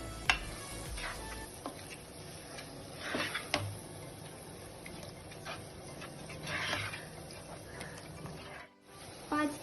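Eggplant bharta cooks on a low flame with a faint, soft sizzle and light ticking crackle, occasional stirring scrapes, and a few brief louder bursts.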